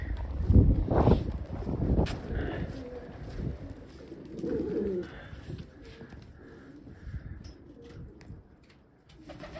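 Pigeons cooing inside a pigeon loft, low soft throaty coos repeating close by, with some wind noise and a person talking at times.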